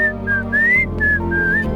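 A person whistles a short tune in a scene from a Hindi-dubbed South Indian action film. The clear, steady notes slide upward and hold, alone over a low background hum.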